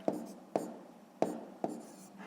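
Pen strokes writing out a long-division answer in a fifth-grade math exercise, four short scratchy taps spaced about half a second apart, close and quiet.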